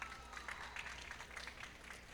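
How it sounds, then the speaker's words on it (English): An audience claps at a Contra Costa County Teachers of the Year ceremony, sustained, fairly soft applause with a dense patter of individual hand claps throughout. "Another round of applause."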